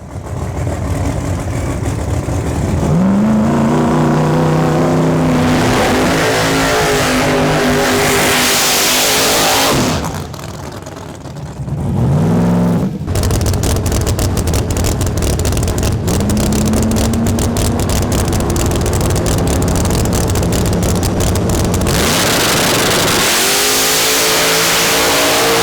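Cars in a drag race rev hard and accelerate past in loud, roaring bursts with rising engine pitch, a brief quieter lull, then more full-throttle runs, all close and continuous with no talking.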